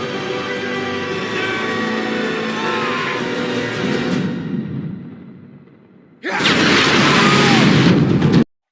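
Car explosion from the action film Mad Max: Fury Road: a loud, sustained roar of engines and rumbling fades down, then a sudden powerful blast erupts and carries on loudly before cutting off.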